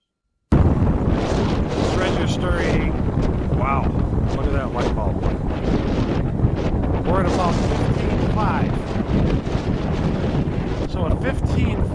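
A Wind Tamer wind turbine runs in strong wind, heard up close as a loud, continuous rushing roar with gusty buffeting on the microphone that starts abruptly and never lets up.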